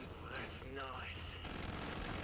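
Gunfire rattles in Killing Floor 2 in quick, dense bursts, with a voice briefly talking over the shooting before the fire carries on.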